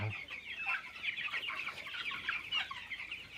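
Several large chickens cluck and chatter in a farm coop, a busy, continuous stream of overlapping clucks at moderate distance with no talking.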